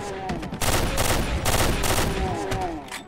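Gunfire in Doom 2 running The Darkening 2 and Mars Mercenary mods on the map Plasmorgasm, rapid loud bursts of shots in quick succession with a rumbling weapon hum underneath.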